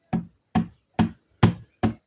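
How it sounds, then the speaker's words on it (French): An ink stamp pressed onto paper five times in a row, each a short, dull, close knock, evenly spaced about half a second apart, with nothing else in between. "Et puis on va retamponner."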